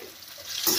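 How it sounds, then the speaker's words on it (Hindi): A spatula stirs black pepper and chili flakes in a hot frying pan for a paneer sizzler: a brief, soft scrape and sizzle that swells at the end. "तो अच्छी तरह चलाएंगे।"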